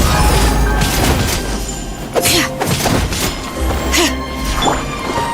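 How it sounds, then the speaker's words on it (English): Fireworks go off in the Genshin Impact video game, with loud booming crashes at two moments over continuous dense game action noise. "Here come the fireworks!"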